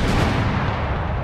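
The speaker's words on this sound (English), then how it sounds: "First volley." Dense musket volley from a line of infantry in Empire Total War, a loud rolling crackle of massed gunfire with booming low rumble, sustained across the whole moment with no speech.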